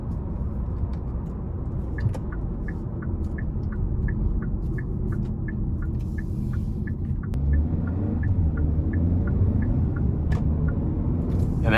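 A 2022 Hyundai Kona N Line with a 1.6-liter turbo engine accelerates, heard from inside as a steady low rumble and drone with regular ticking from the cabin, rising slightly in intensity partway through.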